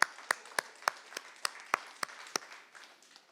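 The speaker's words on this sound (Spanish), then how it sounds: "vamos a dar unos aplausos a las mujeres, pero también a los hombres." A small audience claps for the women and the men, about a dozen sharp, evenly spaced claps that grow softer toward the end.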